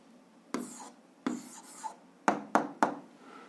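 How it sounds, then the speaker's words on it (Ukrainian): Pen or chalk scratches out an answer to a grade 7 physics problem, a few short strokes then quick taps and marks, close and quiet, with no talking. "Ну що ж, записуємо відповідь, пишемо відповідь"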